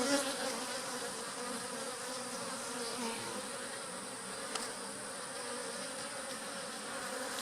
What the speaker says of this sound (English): these bees are starting to get riled up